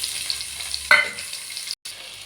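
Capsicum and onions fry in a pan with a continuous soft sizzle, interrupted by a sharp scrape as the pieces are stirred before the hiss carries on.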